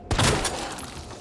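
A pistol-style shotgun fires once in the Resident Evil 2 Remake video game. The blast is loud and close, with a sharp onset and a booming tail that fades over about a second.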